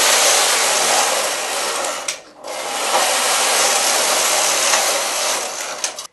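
Machine knitting a few rows of single-strand yarn on a domestic knitting machine, a close, steady rushing whirr as the carriage slides across the needle bed, breaking briefly as it changes direction, no voices.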